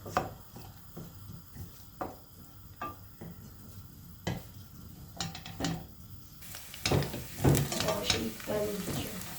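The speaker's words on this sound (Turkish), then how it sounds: "Soğanları biraz karamelize olana kadar kavurayım." Onions sizzle and are stirred in a pot, caramelizing, with scraping of a utensil now and then and a louder burst of frying toward the end.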